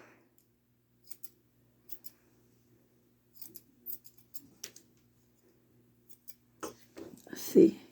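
Curved scissors trimming a small dog's fur snip in short, sparse clicks, a pair here and there, then a quicker run of cuts near the end; quiet and close.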